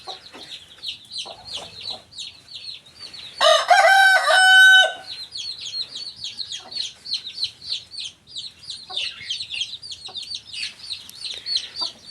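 On a farm in winter, hens cluck and chirp steadily nearby while a rooster breaks in with one loud, drawn-out crow partway through, and the clucking carries on afterward.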